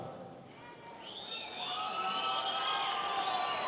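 Audience cheering and applauding at a Venezuelan political rally, a continuous crowd roar with whoops and shouts that builds slightly, heard at a moderate distance.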